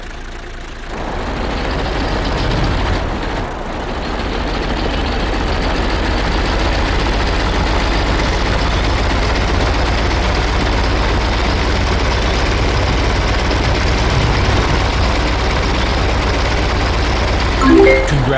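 Heavy tank engine in World of Tanks rumbles steadily at a low, deep idle-like drone while the vehicle drives, continuous and loud throughout with no talk.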